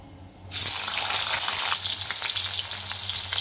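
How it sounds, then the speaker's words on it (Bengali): Tomato dropped into hot oil with popping cumin seeds sets off a sudden loud sizzle that holds steady and close for the rest of the moment, with no voices. "জিরেটা ফুটে উঠেছে, আমি টমেটোটা দিয়ে দিচ্ছি।"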